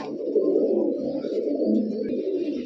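Giribaz pigeons coo in a steady, low, throaty murmur, close by and continuous, with no other sounds.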